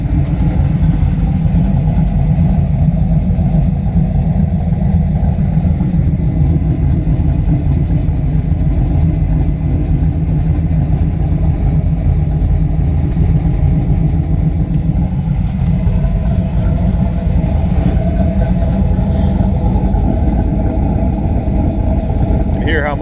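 A 1986 Pontiac Trans Am with an LQ4 V8 swap, fitted with MagnaFlow exhaust and idling after a cold start following two months of sitting; deep, steady, loud rumble throughout, close up and unbroken.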